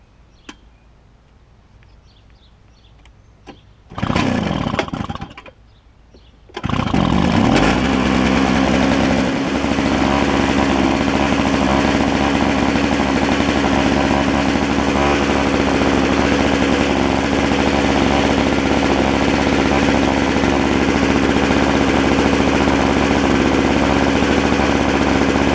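A small gas snowblower engine starts with a brief sputter, then settles into a loud, steady running drone that holds for about twenty seconds, close by with no talking.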